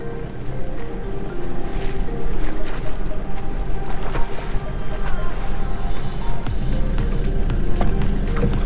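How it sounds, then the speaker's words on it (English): Steady wind and water noise around a small fishing boat drifting at sea over about 40 meters of water while bottom fishing, a continuous broadband rush with no distinct events, close and fairly loud throughout. "it's a bit of wind, so I'm drifting quite a bit"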